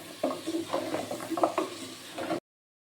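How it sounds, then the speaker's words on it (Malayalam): Cooked tapioca is mixed with masala in a pot, with repeated scraping and stirring strokes over a soft sizzle, then a sudden stop. "മിക്സ് ചെയ്തെടുക്കാം കേട്ടോ ഈ മസാല ഇട്ട് കപ്പ."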